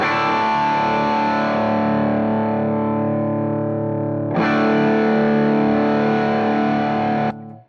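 Saturated electric guitar chords through a Warm Audio Warmdrive overdrive pedal with gain and voice fully up, one sustained chord followed by a brighter restrike that rings loud and thick, then cuts off abruptly.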